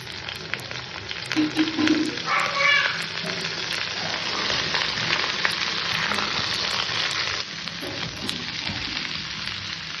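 Sliced ridge gourd and potatoes fry in hot oil for a tilapia curry, giving a steady, moderate sizzle and crackle across the whole stretch with a few brief brighter pops.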